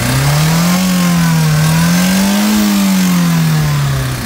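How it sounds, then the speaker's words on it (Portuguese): A used Chevrolet Corsa's engine idles steadily at a used-car fair in Caruaru, Brazil, a loud, close, continuous hum that rises slightly in pitch midway before settling again, with no talk over it. "Pedi para que o amigo desse partida para vocês escutarem o carro funcionando."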